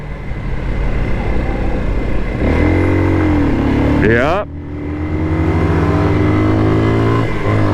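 Heavy trucks labour up a steep hill on a Costa Rican road, a loud sustained low engine drone with rising and falling strain and a brief sweep of passing revving; a voice speaks briefly.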